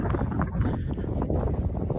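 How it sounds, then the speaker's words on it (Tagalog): Gusty wind roars and rumbles against the microphone in a dense, continuous wash, with no voices. "Ay, mahangin, no?"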